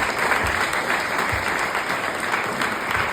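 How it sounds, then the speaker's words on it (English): A crowd claps continuously, a dense, even wash of applause throughout. "So a big round of applause for Gordon, who's still doing it now."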